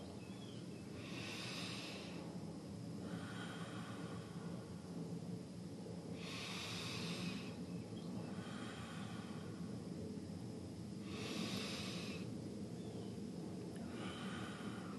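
Slow, deep breathing during a meditation exercise, with long airy inhales and exhales repeating about every five seconds, soft and close over a steady low hiss.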